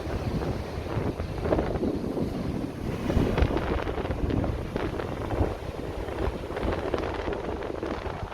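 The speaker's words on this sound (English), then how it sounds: "Wind is nice, man." Steady, blustery wind buffets the microphone at Playa de Las Canteras beach in Las Palmas, Gran Canaria, with a low rumble that swells and gusts throughout, a faint watery wash beneath it and no voices.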